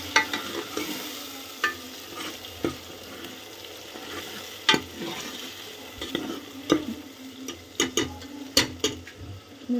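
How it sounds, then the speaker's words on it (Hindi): Ground spices being stirred into onions frying for a potato and pea sabji, with a steady close sizzle broken by repeated scraping spoon strokes and clinks against the pan. "मसाले डाल देते हैं और इसको अच्छे से मिला देते हैं।"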